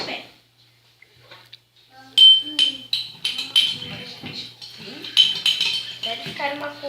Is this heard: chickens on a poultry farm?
no